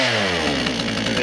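A chainsaw that has just started runs loud and close, its engine note rising and then settling into a rough, steady buzz.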